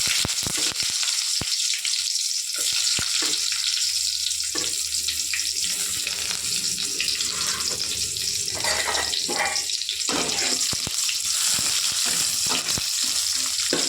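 Onions fry in oil with mustard seeds, producing a loud, constant sizzling roar with crackles and pops throughout, heard close up with no voices.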